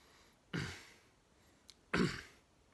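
A person imitates an old lady clearing her throat: two raspy, gravelly throat-clearing bursts, close and fairly quiet, separated by a short pause and a tiny click.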